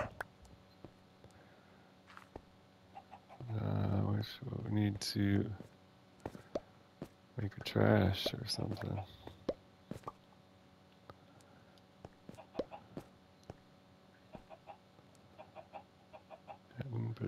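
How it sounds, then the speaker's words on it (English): Minecraft chickens cluck in short bursts, two prominent clusters a few seconds apart with scattered faint clucks after, while a person talks in between. "It's a grown chicken."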